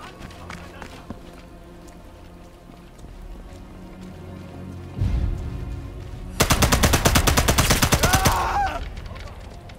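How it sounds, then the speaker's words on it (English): SMG gunfire in the video game Sniper Elite 5, a loud rapid automatic burst of closely spaced shots lasting about two seconds after a quieter stretch of game ambience, with a heavy thump just before it. "I could use this SMG."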